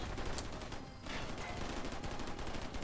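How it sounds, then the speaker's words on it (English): Machine gun fire in the Wheelman video game, dense rapid bursts of shots with a brief gap near the middle, loud and continuous under game noise. "Gotta hope for the best now with this machine gun."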